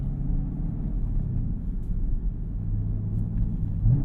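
A 2021 Camaro ZL1 engine rumbles with a deep, steady, close drone through the cabin, swelling briefly near the end as it rev-matches during a gear shift.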